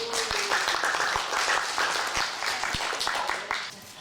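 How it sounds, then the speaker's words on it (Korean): A crowd at a Korean language speech contest for foreign workers applauds a contestant from Myanmar, a short burst of lively clapping that is loud at first and thins toward the end. "여러분 박수 부탁드리겠습니다"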